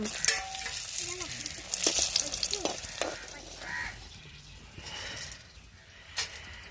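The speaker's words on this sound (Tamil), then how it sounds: "நம்மளுக்கு எண்ணெய் சூடாயிருச்சு, இப்போ உளுந்த போட்டுக்கிறோம். இதோட வத்தல் போட்டுக்கிறோம்." Urad dal and dried red chillies crackle and sizzle in hot oil in a pan while making tomato chutney, with steady frying hiss, stirring scrapes and a few louder pops, close and moderately loud.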